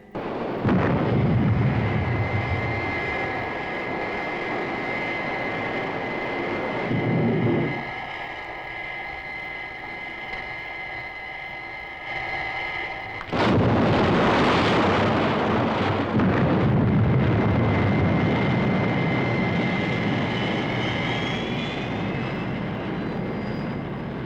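The Thunderbird 4 craft launches in a Thunderbirds television episode with a loud sustained engine roar and whine that shifts in pitch, then surges into a louder rushing blast midway before settling back.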